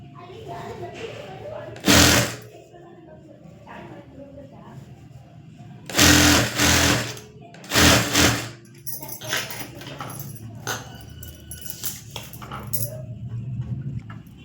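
A sewing machine stitches a side seam on fabric in several short whirring bursts, clear and close. Someone speaks between the bursts.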